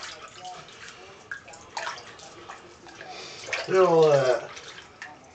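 Water pours into a bathtub being filled for a bath, a soft rushing that swells briefly near the end while a person talks over it.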